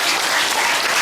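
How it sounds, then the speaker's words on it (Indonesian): An audience at an elderly couples' endek costume contest in Bali bursts into dense, loud applause, a full wash of many hands clapping together at once. "Nika tepuk tangan dulu dengan Pak Wayan Koster."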